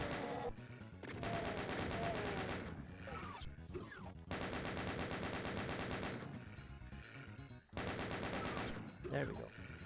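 Sustained bursts of rapid chaingun fire from a chaingunner in the 1994 PC game Doom II, three long loud volleys of several seconds each separated by short gaps, with other game effects between.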